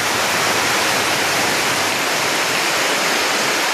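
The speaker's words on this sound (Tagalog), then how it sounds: "Ayan, malakas yung hangin." Dense, steady hiss of heavy rain and strong wind, loud and unbroken throughout, with no talking.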